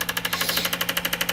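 On an Autool injector tester, HunterTuned 1500cc fuel injectors at idle with 50 psi base pressure fire in a rapid, even ticking pulse, close and steady throughout, with no talk.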